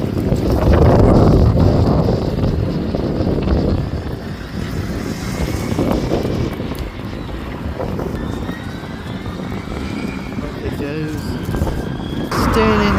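A bus pulls away on a street in Gloucester, its diesel engine rumbling loudly at first then settling into a steady drone, with wind buffeting the microphone throughout.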